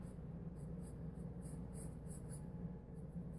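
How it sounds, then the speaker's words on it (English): Charcoal sketching on paper, a soft continuous scratching and rubbing with faint stroke pulses, quiet and close with no talking. "now I'm just going to demonstrate how I work using charcoal and doing a little sketching"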